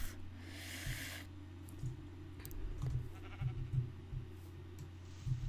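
Sheep in Minecraft bleat in short, soft, repeated calls at roughly one-second intervals over low background noise, opening with a brief hiss.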